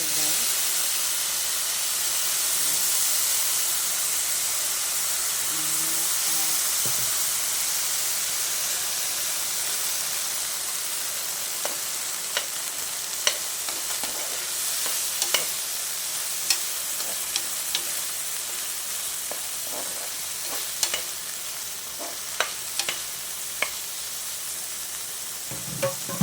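Chicken and eggplant adobo sizzling and hissing steadily in a pan as soy sauce goes in, with scattered sharp crackles and pops growing more frequent toward the end.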